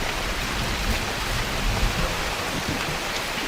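Rain pours steadily outdoors near beehives, a dense continuous hiss of drops with a low rumble underneath, loud and even throughout with no voices.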